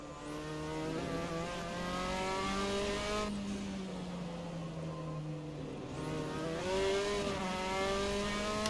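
A Formula 4 race car engine in Assetto Corsa at Okayama revs loudly and continuously, its pitch climbing and dipping with gear changes and wheelspin over a crest, steady and close throughout.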